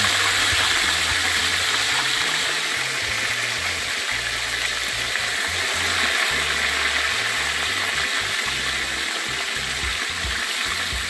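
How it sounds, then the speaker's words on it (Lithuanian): Water runs and gushes off a carp lifted out after dipping, a steady loud rush continuing throughout with no pauses, in a kitchen cooking carp in a cauldron over fire. "Pamerkiam. Nubėga vanduo šiek tiek."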